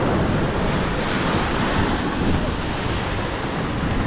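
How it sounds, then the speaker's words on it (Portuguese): Ocean waves break and wash steadily onto Peró beach in Búzios, Rio de Janeiro, a loud continuous roar of surf mixed with wind buffeting the microphone, with no voices heard. "tá com uma onda um pouquinho forte ali"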